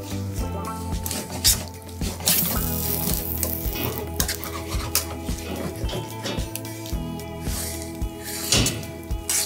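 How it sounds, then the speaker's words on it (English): Fresh spinach tossed into a hot pan that has been cooking sausage and wilting, a soft sizzle under clattering pan and utensil knocks, with steady background hum and scattered scraping sounds. "I'm just gonna throw the spinach in, and it's gonna wilt in"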